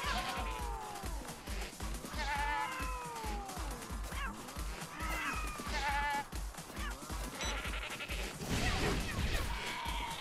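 Repeated wavering animal cries, meows blending with bleats, overlap continuously above a steady rhythmic low thumping, with no pauses, from sheep and cats in the video game Tokyo Jungle.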